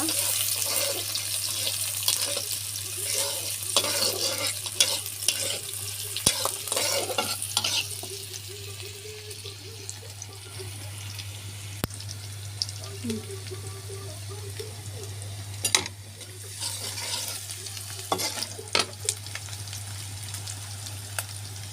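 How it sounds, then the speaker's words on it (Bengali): Chopped onions fry in hot oil in a wok as filling for a chicken and egg sandwich, giving a steady sizzle broken by repeated scraping stir strokes, heaviest early and again near the end, with a constant low hum underneath. "পেঁয়াজটা একটু ভাজা ভাজা করে নেব।"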